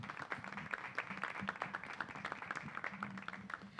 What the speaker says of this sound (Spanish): ¡Un fuerte aplauso para Lucy!